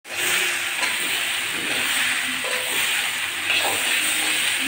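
Bitter gourd with potato, onion, garlic and green chillies frying in a pan, giving a loud, steady, close hiss with occasional faint scraping as it is stirred.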